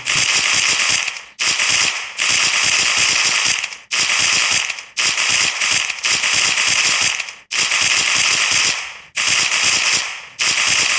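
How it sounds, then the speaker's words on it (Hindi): Rapid automatic gunfire from a mobile zombie shooter game, loud sustained bursts of crackling shots separated by brief pauses, with no talking over it. "वो फायरिंग साउंड भी अच्छा ही है"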